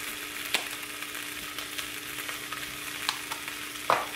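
Eggs fry in a pan with the yolks smushed, a soft steady sizzle close by, broken by a few light scrapes and taps of a utensil.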